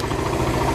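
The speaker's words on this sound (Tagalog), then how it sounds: "ang motorsiklo na tumatakbo sa Daso Water Fuel" A Suzuki motorcycle engine running on Daso Water Fuel idles with a steady, mid-pitched throb that holds at an even level through a very short stretch, with no voices over it.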